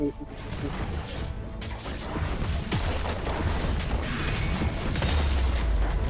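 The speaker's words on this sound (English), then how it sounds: "Enemy turret destroyed." An enemy turret being destroyed in the video game Wild Rift, with booming impacts and crashing debris over a dense, loud bed of game effects that holds steady throughout.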